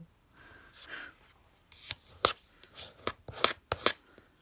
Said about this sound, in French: Il va vraiment falloir que je change la lame du massicot